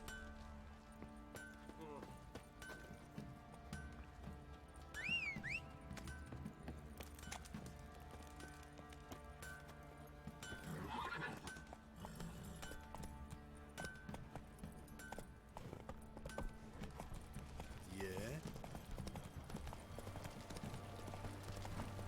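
Horses clip-clop in The Witcher game, a steady run of hoof beats with occasional whinnies, under music and game effects with voices talking.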